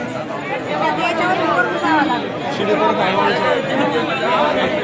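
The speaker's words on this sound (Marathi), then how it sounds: "खूप गर्दी आहे." Dense crowd chatter from devotees on a temple procession route: many overlapping voices close by, a steady, lively murmur with occasional louder nearby speakers, holding evenly throughout.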